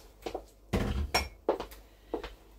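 A spoon stirs sweetcorn and leftover gammon chowder in the pot of a Ninja 15-in-1 multi-cooker, giving several separate clunks and scrapes against the pot, with a louder knock near the middle and no talking.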